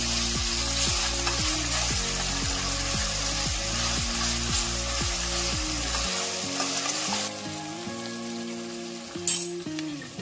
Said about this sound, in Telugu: 1 స్పూన్ అల్లం వెల్లుల్లి పేస్ట్ వేస్తాము. ఇది పచ్చివాసన పోయేంత వరకు వేయించుకోవాలి.